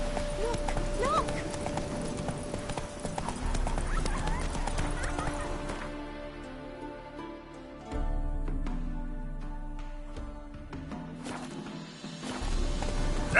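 Roach, a horse in The Witcher 3, galloping with steady clip-clop hoofbeats and a brief whinny, set against game music and ambience that drop away partway through.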